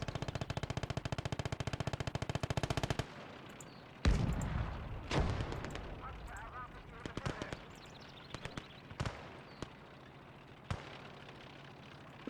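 Machine gun support fire in the video game Gates of Hell rattles in a rapid, steady burst for about three seconds, followed by explosions and scattered gunshots farther off, while someone talks.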